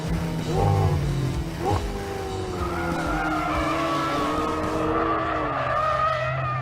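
A McLaren 720S drifts with a loud, close engine roar and long wailing tire squeals that rise and bend in pitch, continuous across the run.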